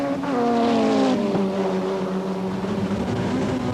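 Touring cars race flat out around the track in a 1988 British Touring Car Championship round, a loud, close engine roar with gear changes and shifting pitch as the cars pass, continuous throughout.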